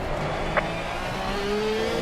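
A race car in Assetto Corsa Competizione whines past steadily, its engine note holding a smooth tone that rises slightly near the end, heard alone with no talk.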